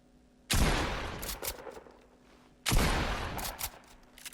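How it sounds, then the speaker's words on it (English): Submachine gun fire in Fortnite comes in two loud, rapid bursts, each roughly a second long and separated by a short pause of quiet. "SMG."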